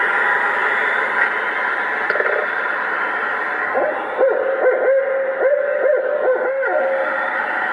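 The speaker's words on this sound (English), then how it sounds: "Why are you playing Owl Call, James?" A recorded owl call plays from a device outdoors at night to draw in owls, giving repeated hooting and wailing notes over steady background hiss, loud and close.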